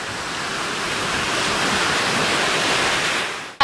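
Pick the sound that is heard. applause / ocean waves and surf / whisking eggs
ocean waves and surf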